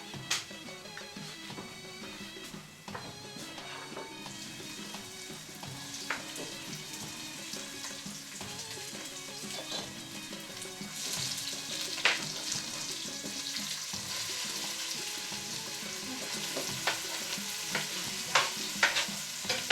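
Sorrel and onions frying and sizzling in a pan, a steady crackle with occasional stirring clinks, growing a little louder toward the end, close and without talk.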